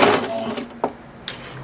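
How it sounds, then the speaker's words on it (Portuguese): A sewing machine stitches a fabric seam for a placemat or napkin and backstitches, giving a short whirring run followed by a few sharp clicks. "Vou virar e vou continuar a costura. Deixei um espaço aqui, não vou fechar e vou dar um retrocesso."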